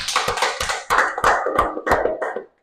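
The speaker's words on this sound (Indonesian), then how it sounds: "Oke, tepuk tangan untuk kelompok 2." A small classroom group claps in quick bursts, several separate rounds of close hand claps that stop abruptly.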